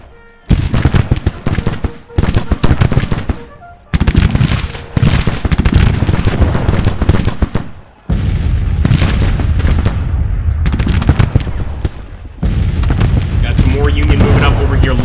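Standard Springfield rifle muskets fire in volleys during a Civil War battle at Bentonville, giving loud, dense bursts of cracking gunshots and booms that come in waves with brief gaps, near and overwhelming.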